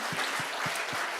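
A church congregation applauding in thanks during a service, a short burst of brisk, fairly loud clapping with a few stronger regular beats running through it, heard alone.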